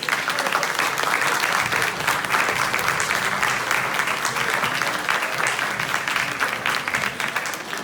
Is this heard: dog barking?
no